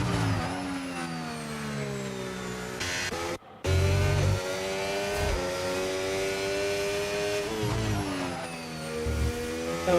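Formula 1 car on a push lap during pre-season testing in Spain, a loud high-pitched engine whine rising and falling through gear changes, with a brief cut and shifting pitch as it passes.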